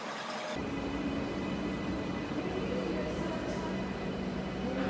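A metro train at New Garia metro station gives a steady, loud rumble and hiss of running carriages that carries on without a break after a sudden onset.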